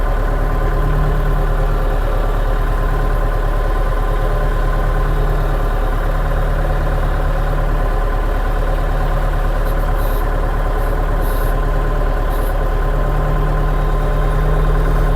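Scout 404C walk-behind tractor engine running steadily in low fourth gear at moderate throttle in a dry, dusty field, a loud continuous mid-low drone with a constant idle-like rumble throughout, no talking.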